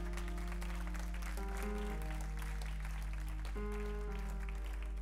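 A church congregation claps and cheers in praise during a sermon, dense applause under loud sustained organ or keyboard chords and a strong low hum.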